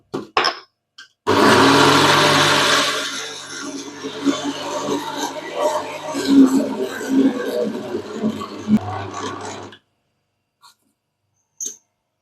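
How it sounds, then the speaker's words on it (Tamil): A kitchen mixer grinder churns cassava (tapioca) for vada batter, a loud whirring grind that starts abruptly, fades to a lower rumbling churn, then stops, with a few faint clicks after. "கொஞ்சம் அரைஞ்சதுக்கப்புறம் நம்ம கிழங்கு போட்டுக்கணும் அரைச்சிக்கலாம் அரைச்சி எடுத்துக்கலாம்"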